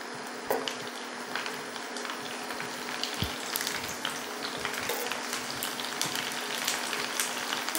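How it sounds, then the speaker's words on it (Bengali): Packaged phuchka (puri) shells frying in hot oil, a continuous close sizzle with scattered sharp crackles and pops, steady throughout with no talking. "এই ফুচকাগুলিকে ভেজে নেব।"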